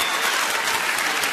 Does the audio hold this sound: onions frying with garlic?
no